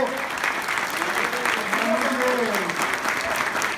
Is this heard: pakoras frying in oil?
no